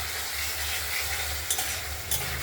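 Katla fish curry with potato and tomato sautéing in oil, a constant close sizzle with a couple of brief scraping stirs near the end.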